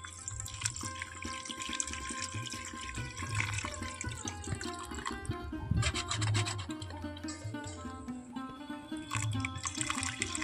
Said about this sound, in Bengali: আর এর মধ্যে আমি এখন দিয়ে দেব জল।